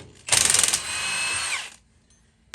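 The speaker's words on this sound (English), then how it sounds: "You can use your impact to spin them out." A Polaris RZR Turbo wheel hub gets its bolts spun out by an impact wrench: one loud, close whirring burst of about a second and a half, then near silence.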